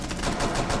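Rapid automatic gunfire from the video game Rainbow Six, a dense and continuous loud burst with no talking.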